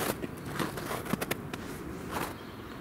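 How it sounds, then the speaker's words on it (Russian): Snow and ice crunching and creaking underfoot on a forest walk, a few soft uneven steps close by, fairly quiet with no voices. "Ой, как приятно скрипит под ногами снег."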